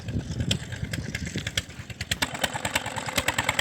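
A Peter diesel engine runs with a rapid, steady knocking chug, each firing stroke sharp and clattery, close and continuous with slight irregular beats.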